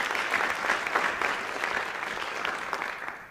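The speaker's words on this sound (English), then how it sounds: "please join me in giving them a round of applause for their dedication and leadership to our district" An audience applauds school board members at a school district State of the Schools event, a steady, moderately distant clatter of many hands that continues throughout.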